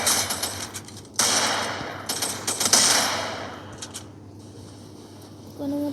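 Gunfire in a shooting video game: bursts of rapid automatic shots and sharp single cracks, loud and close, with short pauses between volleys and a brief tonal game sound at the end.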